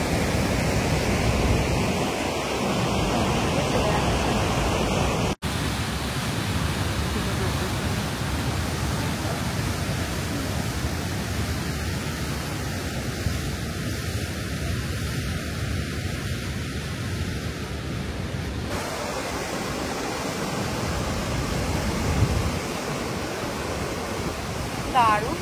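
Shasta's upper falls rush with a loud, dense, unbroken roar of falling water, heard close by and steady for the whole stretch, with a voice talking faintly under it.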